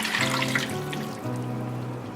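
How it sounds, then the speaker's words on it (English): Water is dumped into a pressure cooker holding a Thanksgiving turkey, a close, continuous splashing pour with a low hum underneath. "Now we're going to dump in the water."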